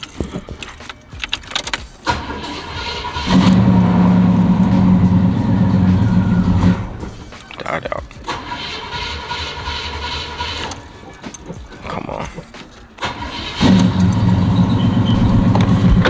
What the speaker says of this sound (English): let me go ahead and try to start this car up